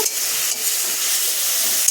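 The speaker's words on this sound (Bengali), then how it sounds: "সুন্দর করে ভেজে নেবো যাতে জলটা না থাকে" Pumpkin leaves with salt, turmeric and sugar fry in a pan, giving a loud, continuous hiss and sizzle with light stirring scrapes. No one speaks.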